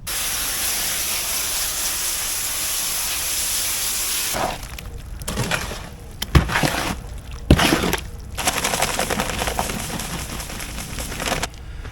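A garden hose sprays water over a wheelbarrow and mortar-covered tools, a loud steady hiss for several seconds, then a broken, spattering spray with sharp knocks of metal.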